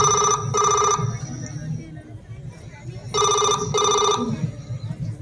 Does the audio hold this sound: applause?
no